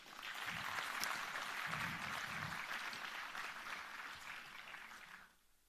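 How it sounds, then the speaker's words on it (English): A large conference audience welcoming dignitaries from 75 cities gives a broad, sustained round of applause at a government markets conference. The dense clapping holds steady from a distance, then tapers off and stops near the end. "Heartily welcome to all of them with a huge round of applause"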